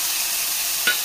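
Small diced potato tossed into onions frying in oil for a Kerala capsicum stir-fry, giving a steady close sizzle with one brief scrape of stirring near the end.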